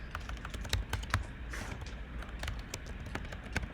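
Clattering keystrokes on a broken computer keyboard during a programming lecture, an uneven run of sharp close clicks with a few heavier key hits, no talking.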